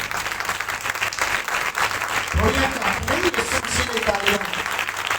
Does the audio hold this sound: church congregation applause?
yes